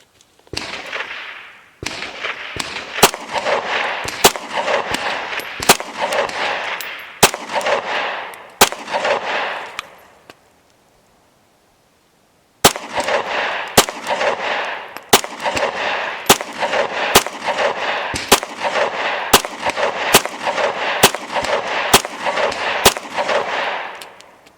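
A Glock 43x fed from an S15 magazine fires Aguila 124-grain rounds in a quick, evenly spaced string of sharp, loud shots, breaks off for a couple of seconds of silence, then resumes with another long regular string.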